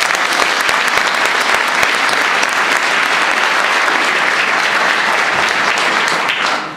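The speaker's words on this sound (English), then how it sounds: "There's going to be lots of clapping tonight" An audience at a 2012 graduation ceremony for The Excel Center claps in loud, dense, sustained applause for about seven seconds before it begins to fade.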